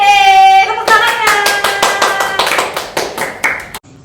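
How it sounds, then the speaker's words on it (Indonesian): Clapping from a Sunday school audience at a Kartini Day service, following a sustained musical tone; sharp, rhythmic claps repeat in a steady beat for about three seconds before stopping abruptly. "Tepuk tangannya."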